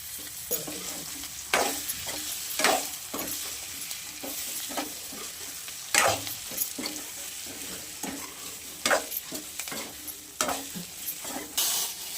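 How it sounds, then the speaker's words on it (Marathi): Capsicum sizzles and is stirred in a pan of hot tempering oil, with a steady frying hiss broken by repeated scraping strokes of a spoon. The sound is close, and nobody speaks. "आपण ह्याच्यात आहे ना ही मिरची टाकून घेऊयात"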